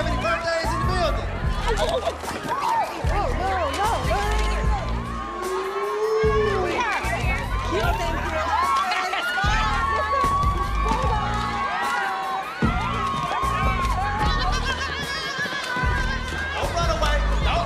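A lively audience cheers, whoops and shouts for Rock with an energetic, continuous roar of mixed voices, some high-pitched yells rising over the crowd noise throughout.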